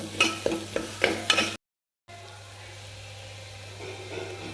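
A spoon stirring a spice masala mixture in a pan, several quick scraping strokes with a light sizzle, close and fairly loud, then a brief gap of silence before a softer steady frying hiss.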